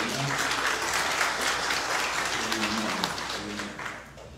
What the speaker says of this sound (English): let's give this brotherhood another round of applause